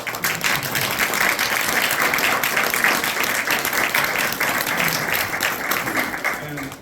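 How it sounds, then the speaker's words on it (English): An audience at a chapter office and library grand opening breaks into sustained applause, dense steady clapping filling the room for several seconds. "And so I want a round of applause."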